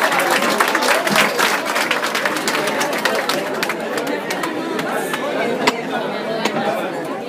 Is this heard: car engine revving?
no